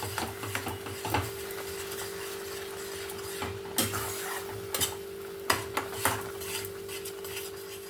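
Amla stirred with jaggery in a pan over a low flame: a spoon scrapes and clinks against the pan in sparse, irregular knocks over a steady low hum, fairly quiet and close, with no talking.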